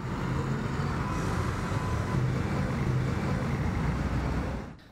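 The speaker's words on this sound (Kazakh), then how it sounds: "Түркістанда жигулилердің көптігі сонша шаһардың кез келген көшесінде ағылып жатыр." Old Lada Zhiguli cars pass along a busy city street in Turkistan, a steady, loud wash of traffic and engine rumble that continues without pause and fades out at the very end.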